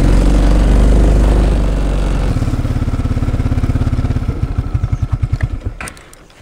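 A tractor with a front-end loader, pulling an AgriFab lawn sweeper through leaves, runs loud and close, then drops to a chugging idle that slows into separate thumps before cutting off near the end.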